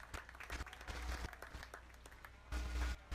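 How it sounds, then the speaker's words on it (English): A crowd at a youth sheep market show claps for young lamb exhibitors placing first and second, a quiet, distant wash of applause that swells louder near the end. "Let's give these young people a round of applause for getting into first and second out in this division"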